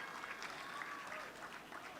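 Audience applause at a film journalists' festival evening, a steady, dense clapping from a crowd that continues without pause for about two seconds.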